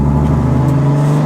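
A BMW car engine revs hard, loud and close, its steady droning pitch dipping near the end as the gear changes, with no voices over it.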